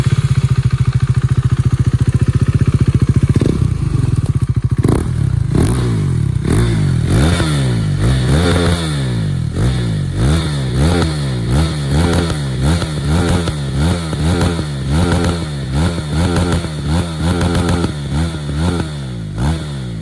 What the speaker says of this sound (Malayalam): ഇതിന്റെ എക്സോസ്റ്റ് നോട്ട് കേൾപ്പിക്കാമോ?